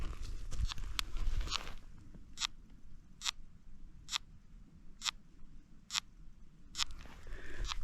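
Sharp, evenly spaced clicks of beetle larvae chewing inside wood repeat roughly once a second against a quiet background, preceded by a denser burst of crackling clicks.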